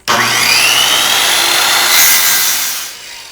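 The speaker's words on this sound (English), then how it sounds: "So I'm going to go ahead and cut a bunch of shelves" A power saw rips through a wooden shelf board for a simple bookcase, a loud, continuous whining cut lasting about three seconds before it tapers off and fades.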